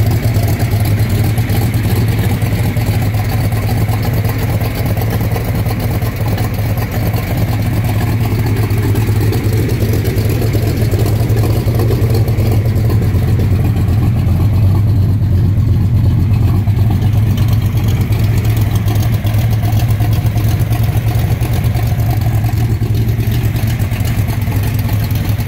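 A 1967 Corvette 427 engine rumbles steadily and loudly throughout while driving, a deep continuous drone with mild swells in pitch.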